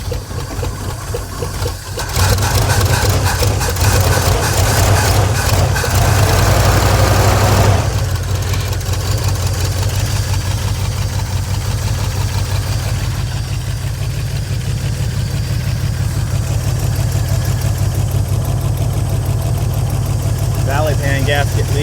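An engine in an old, long-abandoned Pontiac G-body station wagon, with a leaking valley pan gasket and pumping water, idles loud and steady with a rough, even rumble, close by, with people talking over it.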